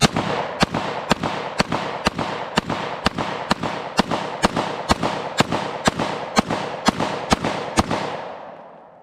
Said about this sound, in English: we're gonna try the extended mag with the VIS.